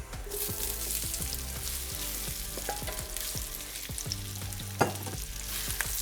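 Potatoes for a steak and potato hash fry in a pan with a steady, close sizzle, plus several scraping stirs and a clack of a utensil. A sharper knock comes near the end. No one speaks.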